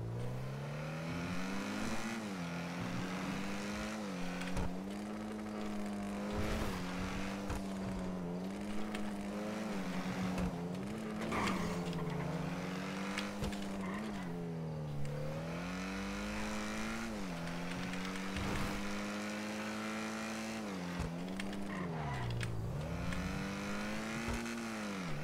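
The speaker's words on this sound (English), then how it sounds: "I hate that this car and the jugular sound the fucking same" Video game car engine revving and droning continuously in a role-play session, pitch rising and falling through shifts with occasional tire squeal, loud and steady throughout.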